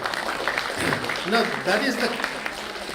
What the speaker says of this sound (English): Why don't you give her a big round of applause?